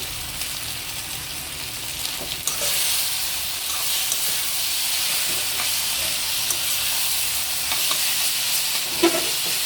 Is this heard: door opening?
no